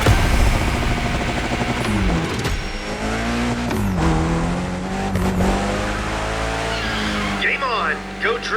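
A car drifts in The Crew Motorfest, its engine revving and shifting pitch while tires squeal continuously through a long slide, loud and close, with a voice talking over it.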